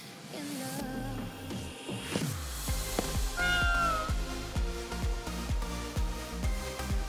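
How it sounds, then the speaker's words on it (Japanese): A cat meows several times in Ghostwire: Tokyo, its drawn-out, rising and falling cries standing clearly over a low, rumbling game soundtrack with steady pulsing beats. "何あれ、猫？"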